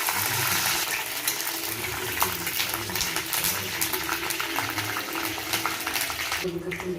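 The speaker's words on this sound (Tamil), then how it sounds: "இந்த கருவேப்பிலை நல்லா பொறிஞ்சிருச்சு" Curry leaves frying in hot coconut oil in a pan while making mutton gravy, a steady crackling sizzle with soft stirring, fairly quiet and close.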